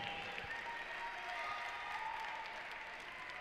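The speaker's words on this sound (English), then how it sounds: "Please put your hands together for our couples on the floor" Ballroom audience applauding dance couples in a Latin junior final, a dense, even wash of clapping that holds steady throughout, somewhat distant and without voices.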